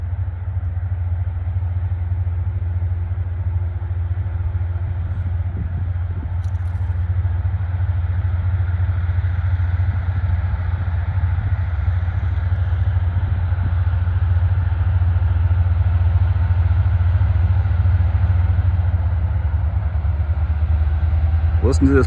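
Locomotives on all available power haul a very heavy rock freight train past at about 7 miles an hour, giving a steady, deep, close engine drone and rumble that builds slightly over time, with faint clanking.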